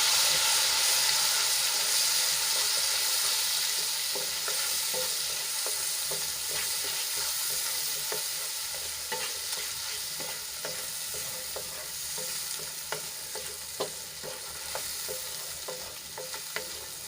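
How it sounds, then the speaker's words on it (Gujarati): Tomato puree fries in oil for a Gujarati dried val bean curry. A steady close sizzle runs throughout, with frequent spoon stirring and scraping strokes over it. "તો એમાં આપણે બે મોટી સાઈઝના ટમેટાની પ્યુરી એડ કરી દઈશું અને તેલમાં સરસ રીતે મિક્સ કરી લઈશું"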